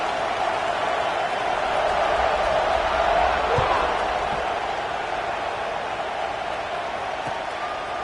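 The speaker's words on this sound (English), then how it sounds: "this crowd is buzzing after that last score" A video game American football stadium crowd buzzes after a score ahead of a kickoff, a steady, dense roar that holds at an even level throughout with no breaks.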